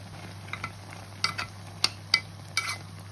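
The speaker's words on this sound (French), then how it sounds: "Je fais revenir ma viande et les oignons." Meat and onions browning in a pot, with a soft steady sizzle underneath and several sharp clinks and scrapes of a utensil against the pot at irregular intervals.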